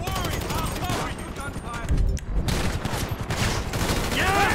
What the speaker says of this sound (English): gunfire. Get down!